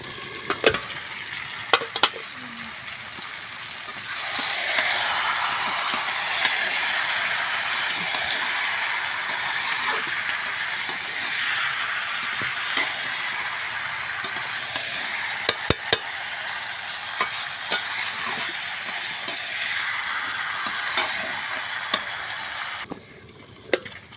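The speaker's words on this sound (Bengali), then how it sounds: "মাংসটা একটু চাপা দিয়ে দিয়ে কষবো" Chicken pieces stir-fried for chicken kosha, pressed down in a hot pan with oil: a steady, loud sizzle fills the whole stretch, broken by occasional sharp scraping clicks of the spatula, with no talking.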